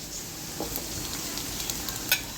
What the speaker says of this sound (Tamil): எண்ணெய் சூடானதும் பட்டை கிராம்பு ஏலக்காய் கருப்பு மிளகு எல்லாம் எண்ணெயில் போட்டுடலாம்